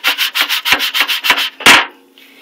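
Hard back-and-forth scrubbing of a cookie sheet pan coated in baking soda, a rapid run of about eight rasping strokes followed by one longer, heavier scrape, close and loud with no talking.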